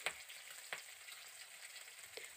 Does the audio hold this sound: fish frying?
yes